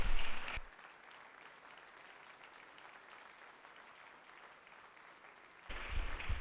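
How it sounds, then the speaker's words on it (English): Applause for first responders on the floor of the Georgia House chamber during a legislative session, a steady, moderately distant roar of clapping hands with brief louder bursts at the very start and end. "Let's give them a round of applause and show our appreciation to these heroes."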